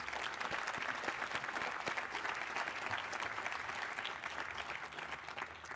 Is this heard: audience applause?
yes